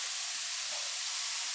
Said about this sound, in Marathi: आता हा पालक आपण टाकून द्यायचं भाजीत फोडलेला आणि व्यवस्थित परतवून घ्यायचं.